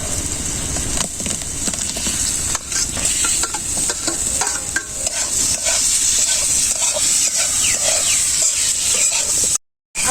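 Ripe tomatoes sautéing in Dalda fat in a pan for a village egg curry, a steady loud sizzle and hiss with scattered spoon scrapes throughout, close, dropping out briefly just before the end.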